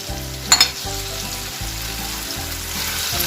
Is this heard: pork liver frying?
yes